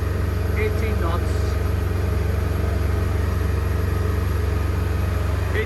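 A Regal 2665 boat with a Yanmar 240 HP Bravo III drive cruising at 2,600 RPM, its engine a steady low drone with water rush, while someone talks over it.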